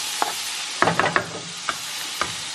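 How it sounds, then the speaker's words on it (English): Vegetables sauté in sausage drippings left in the bottom of a pan, a steady close sizzle broken by several sharp scrapes and clacks as they are stirred. "that's what we're going to use to just saute our vegetables for like 2 minutes"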